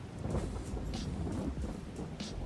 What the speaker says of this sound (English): How long does this rain going to last?